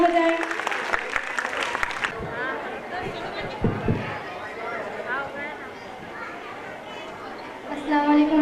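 Applause from an audience at an Urdu school's annual gathering, a burst of clapping that starts under an amplified voice and then carries on with scattered children's chatter and a few knocks before the voice returns at the end.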